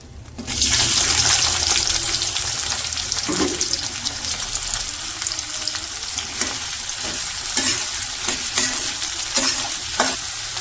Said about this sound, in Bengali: পিসগুলো কিছুক্ষণ ভাইজা নিই, ভাইজা হালকা হালকা লাল লাল করে ফেলাম